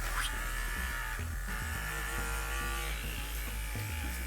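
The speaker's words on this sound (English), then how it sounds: "now we're gonna grab the wireless clipper again and we're gonna shave the paws one at a time" A wireless electric clipper trims the fur on a dog's paws with a continuous close buzzing hum that shifts in pitch as the blades meet the fur, with no talking.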